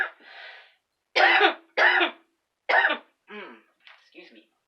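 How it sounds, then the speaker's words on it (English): A person coughs in a series of harsh bursts, several strong hacks followed by weaker, fading throat-clearing sounds, close and separated by silence. "I'm coughing."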